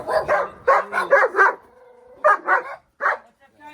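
A German Shepherd barks in a rapid series, pauses briefly with a whine, then barks several more times, loud and close.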